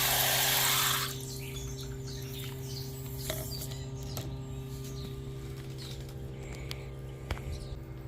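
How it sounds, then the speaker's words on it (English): An ELIL electric camp shower pump hums steadily as it pumps water, starting with a loud rush of spray that drops to a quieter, continuous motor drone with faint drips and ticks. "Still pumping, good flow. Pretty good pressure."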